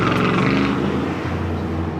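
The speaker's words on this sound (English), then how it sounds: "Some loud cars going down Imperial." Loud cars on Imperial Highway beside LAX, heard from the airport side: a close, steady engine drone with a throaty low rumble and a harmonic whine that shifts in pitch as a vehicle accelerates past, with no speech.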